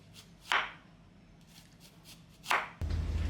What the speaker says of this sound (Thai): เตรียมผักต่าง ๆ แบ่งสีเลยก็ได้นะครับ หั่นตามขวางเนาะ